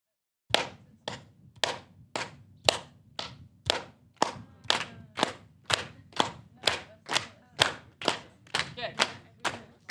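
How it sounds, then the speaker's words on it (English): Hands clapping in a slow, steady rhythm at a festival session, about twenty sharp claps evenly spaced, clear and close in a quiet room. "What I will be clapping with my hand."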